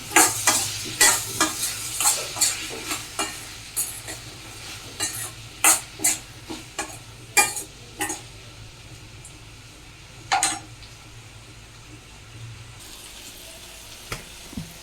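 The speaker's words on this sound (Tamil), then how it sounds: "நல்லா வதக்கிடலாம்" Eggplant and drumstick vegetables sautéing in a pan for a Tamil lunch curry, with steady sizzling under repeated scraping and stirring clatters that are busy early on and thin out toward the end.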